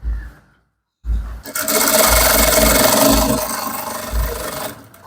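Sewing machine stitching elastic along the waistline of Ankara print pants, a steady loud whirring run of about three and a half seconds after a brief pause, then slowing and stopping near the end.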